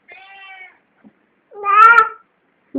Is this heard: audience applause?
no